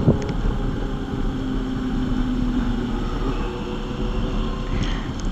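Superbike engines on a group ride with a Suzuki Hayabusa, Benelli and Royal Enfield Himalayan, a loud continuous engine drone with wind rush, close and steady, no talking.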